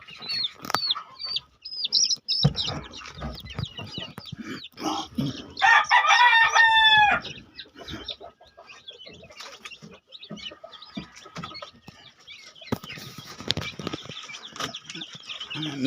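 Chicks and chickens in a homemade brooder, a busy mix of peeping, clucking and a rooster-like crow in the middle, with wing flapping and scratching rustles, close by.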